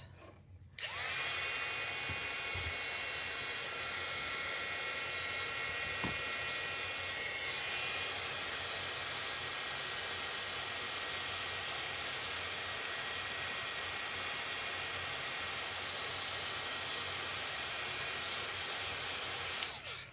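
A heat tool heat-setting embossing powder blows with a steady, loud whirring hiss that starts after a second and runs nearly twenty seconds before switching off.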